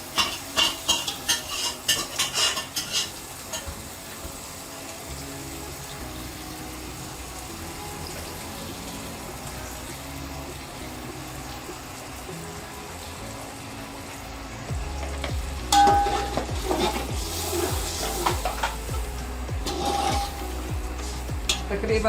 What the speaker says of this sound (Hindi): मसाले वगैरह फ्राई हो चुके हैं।